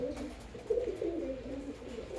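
Soft, low pigeon cooing in a loft, a few throaty rolling calls repeated faintly in a quiet space.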